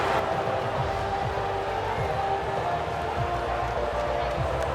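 A stadium crowd cheers a race victory in F1 24, a steady, dense roar of distant cheering with scattered claps, heard under a commentator's voice throughout.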